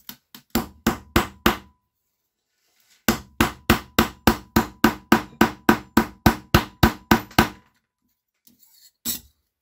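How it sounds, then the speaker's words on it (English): A mallet pounds an annealed silver sheet flat on a hard surface: a quick run of about seven sharp knocks, a pause, then a steady string of around fifteen evenly spaced blows and one last strike, close and crisp. "now I'm just going to use this mallet to flatten it out the rest of the way"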